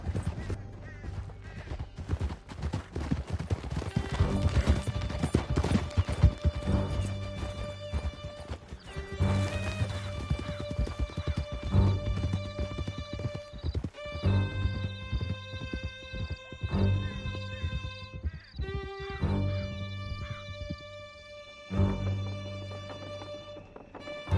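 Horses galloping in Red Dead Redemption 2, dense loud hoofbeats churning through a chaotic in-game chase with crashes and a musical score, thinning out toward the end.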